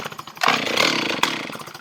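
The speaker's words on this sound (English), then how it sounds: "One of my most favorite chainsaws in the world." An old metal-tag Stihl 044 chainsaw, cold, is pulled and catches. A loud rasping engine burst rises and runs for about a second, then cuts back, with a sharp click near the end.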